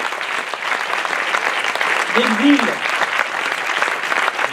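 Audience applause at a children's festival stage show, steady clapping filling the whole stretch with a brief spoken word from the stage partway through.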